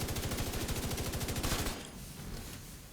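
Rapid sustained automatic gunfire with fire bullets in the video game Division 2, a dense loud burst of shots that cuts off and leaves a quieter echoing tail.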